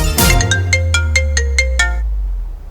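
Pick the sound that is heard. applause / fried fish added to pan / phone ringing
phone ringing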